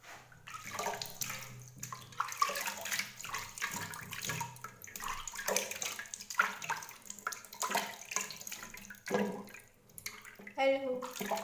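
Tap water runs steadily over skin as a senior woman's face and legs are rinsed, first warm and then cold, during an evening cleansing routine, with intermittent talk over the continuous splashing.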